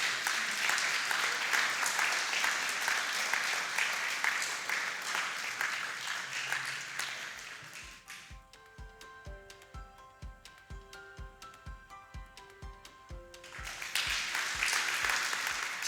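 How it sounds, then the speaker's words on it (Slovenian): An audience at a Slovenian chamber of commerce innovation award ceremony applauds in sustained, even clapping. The applause yields to a short burst of rhythmic stage music, then swells again. "Prosim lepo in aplavz za Arctur."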